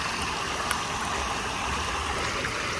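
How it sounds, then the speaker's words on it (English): Creek water seeps and trickles through the rocks of a small farm dam, a steady close babbling stream sound with no voices. "the water seeping through the rocks instead of flowing over it"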